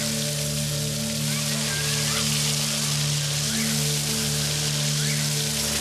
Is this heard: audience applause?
no